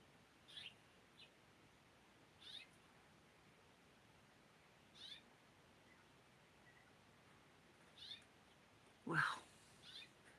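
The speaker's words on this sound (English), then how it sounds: "You hear the birds?" Small birds call outdoors in spring, brief chirps and short songs spaced a couple of seconds apart, fairly faint over quiet background, with one louder call near the end.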